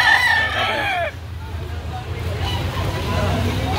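A rooster crows loudly and close for about a second at a busy gamecock market in Carbon, Cebu City, its drawn-out call rising over a murmur of surrounding crowd chatter that carries on afterward.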